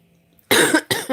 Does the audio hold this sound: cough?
yes